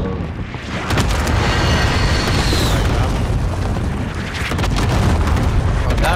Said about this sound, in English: enemy cluster strike incoming.